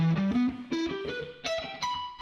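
Distorted electric guitar with effects plays a fast rising 1-3-5 arpeggio in octaves, a quick ladder of clear sustained notes climbing in pitch, played alone.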